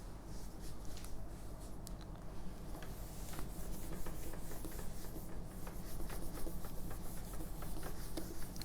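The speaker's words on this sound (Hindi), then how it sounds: "मैं इसको फिर से रब कर रहा हूं।" Steady rubbing as writing is erased from a classroom board during a Class 9 maths lecture, a continuous close scrubbing of moderate loudness with no talking.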